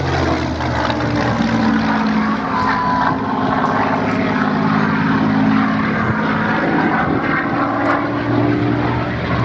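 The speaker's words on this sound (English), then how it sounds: "It has the correct Merlin 66 engine for this variant." A Spitfire with a Merlin 66 engine flying at the Duxford Battle of Britain air show gives a loud, steady propeller-engine roar that holds throughout without a pause.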